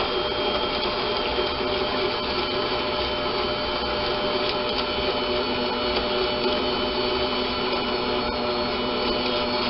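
A stand mixer beating eggs for chocolate chip cookie dough gives a steady, continuous motor whir with a constant level throughout and no talking.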